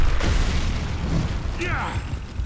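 Frag grenade detonating in the Gears of War video game, a muffled low boom amid game sounds and brief mechanical clatter, with a short high whine trailing after.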